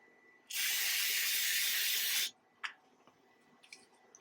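A can of aerosol brake cleaner releases one loud, steady spray burst lasting nearly two seconds, followed by a faint drip, a small tap and a few quiet rustles.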